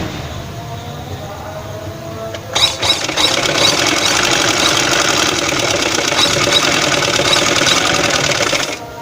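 Sewing machine stitching cloth while adding a dori and magzi edging, a steady loud mechanical whirr that starts abruptly after a quieter stretch and runs continuously to the end, close to the microphone.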